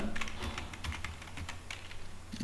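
Quick, light clicks of a computer keyboard while typing an address into a WordPress site, a fast irregular patter of keystrokes, close and fairly quiet with no voice over it.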